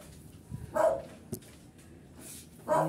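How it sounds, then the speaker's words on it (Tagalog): A dog named Kim gives two short, muffled barks at a house, a little way off and fairly faint, with quiet household background between them. "si Kim, ang asong si Kim."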